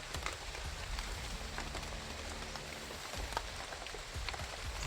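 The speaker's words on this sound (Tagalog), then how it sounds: "Naabutan na kami ng ulan, oh." Steady rain falls outdoors during a search, a dense continuous patter of drops on surfaces with no talk, even and fairly close throughout.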